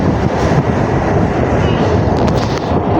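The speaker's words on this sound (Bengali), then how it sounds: "ট্রেন এখন আমাদের ছেড়ে দিচ্ছে খিদিরপুর থেকে" A train pulls away from Khidirpur station on the Kolkata Circular Railway, a steady loud rumble with wind buffeting the microphone, alone without talk.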